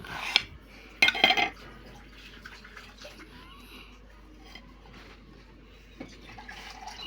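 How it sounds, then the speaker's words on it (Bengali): Strawberries sliced with a knife on a cutting board in a home kitchen: a few sharp taps and knocks near the start, then quieter sporadic cuts and light clatter against faint background hiss. "এই যে আমি এখন কয়টা স্ট্রবেরি কাটছি।"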